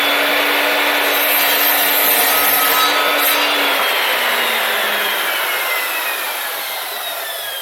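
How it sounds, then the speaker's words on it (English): Continuous close, loud saw cutting through oak for doors, making 45-degree angle cuts, a dense steady rasping roar that eases slightly toward the end. "let's cut all the 45s in and then we can just trim them"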